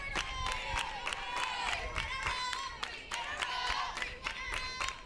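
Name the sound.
crowd cheering at a softball game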